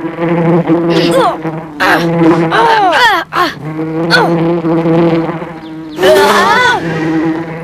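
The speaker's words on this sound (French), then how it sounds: "C'était la mouche la plus bruyante du monde." A very loud buzzing fly drones close by, its pitch rising and swooping in repeated bursts with brief gaps, like a fast-darting insect circling near the ear.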